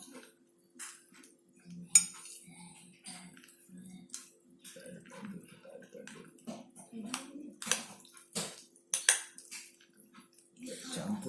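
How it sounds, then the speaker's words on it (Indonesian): A spoon clinks and scrapes in a bowl of chicken porridge being stirred, a string of quiet irregular taps and clatters, with soft talk at times. "langsung ya kita aduk-aduk."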